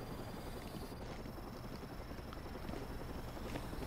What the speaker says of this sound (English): And where's the helicopter?